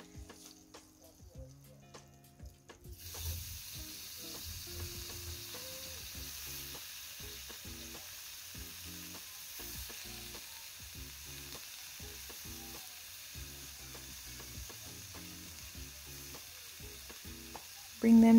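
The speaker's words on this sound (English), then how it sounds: "After it's melted, I'm going to toss the veggies in." Vegetables hit melted butter for a stir fry, and after a quieter start the pan breaks into a steady, close sizzle that holds for the rest of the stretch, with scattered stirring clicks on top.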